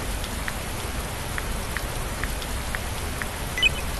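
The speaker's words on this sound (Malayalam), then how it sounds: "മഴയൊക്കെ പെയ്തപ്പോൾ വെറുതെ ഒന്ന് മഴ വെള്ളം ഇറങ്ങിയതാണ്" Steady rain falls on a surface outdoors, a continuous dense patter with scattered distinct drips, even and moderately loud throughout, with one brief slightly louder splash near the end and no voices.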